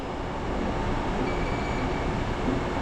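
Inside a subway station in Panama, a steady, loud rumble of trains and station machinery fills the space without pause, with no voices.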